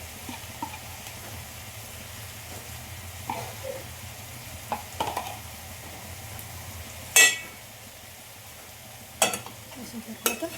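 Chicken curry with tomato, coriander powder and garam masala being stirred in a pan: a steady low sizzle with scattered scraping stirs and a few sharper utensil knocks near the end.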